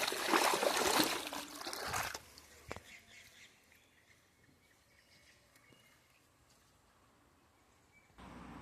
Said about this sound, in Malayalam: ബാക്കിയൊന്ന വെള്ളം ഞാൻ ഇതുകൂടെ അങ്ങ് ഒഴുക്കി വിട്ടു